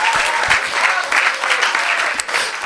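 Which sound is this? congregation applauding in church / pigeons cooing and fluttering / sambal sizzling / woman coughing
congregation applauding in church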